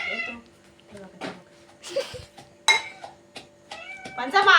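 A house cat meows repeatedly at close range amid kitchen sounds, with people talking over and between the calls.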